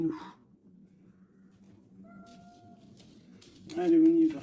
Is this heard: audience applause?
no